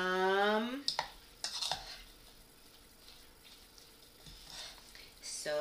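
Kimchi seasoning is mixed together in a bowl: a few soft clinks and scraping knocks of utensil against the bowl, then quiet wet stirring, with a brief voice at the start and end.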